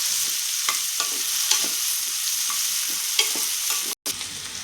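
Peanuts stir-fry with tomato and vegetables for a masala khichdi, giving a crackling sizzle broken by repeated spoon scrapes and taps against the pan, close and unbroken apart from one brief dropout near the end.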